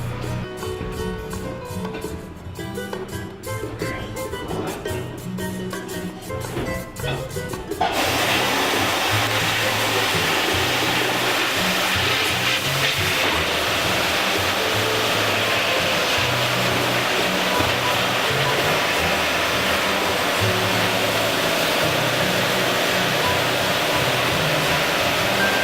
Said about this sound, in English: And so now let's start sandblasting.